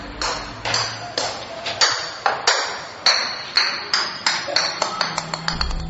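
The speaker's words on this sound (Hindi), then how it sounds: "ऊपर से एक बॉल गिरते हुए नीचे आया" A ball tumbles down a flight of stairs as a sound effect in a Hindi radio horror story: a run of sharp, ringing bounces whose rhythm quickens and grows lighter toward the end, heard over a low background bed.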